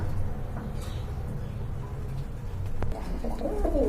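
A male pigeon calls outdoors beyond a pigeon seller's stall, soft cooing notes rising near the end over a steady low background hum.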